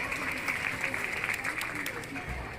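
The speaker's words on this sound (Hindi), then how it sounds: "सम्मान के लिए जोरदार तालियां खुद के लिए बनाएं" Applause from the audience at a Shivhare community celebration of Sahastrabahu's birth anniversary in Biaora, a steady quiet wash of clapping lasting a few seconds with a faint murmur mixed in.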